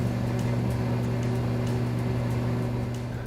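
A Hamilton Beach Eclipse commercial blender runs at a steady, fairly quiet level, its even motor hum holding constant with a faint tapering toward the end and no voices.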